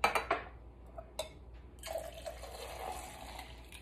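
Liquid poured into a cocktail shaker: a few quick splashing pours at the start, then a fainter trickle and light clinks of glass, close and fairly quiet with no talking.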